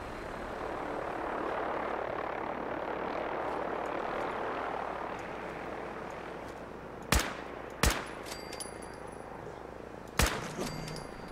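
Gunfire from a weapon in Fallout 4: three sharp, loud shots spaced a second or more apart over a steady roaring engine-like drone.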